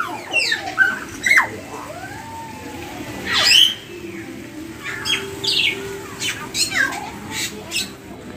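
Several sharp, whistling Bali starling calls and chirps ring out one after another, loud and close, with squawky bursts between quieter gaps, at a bird park.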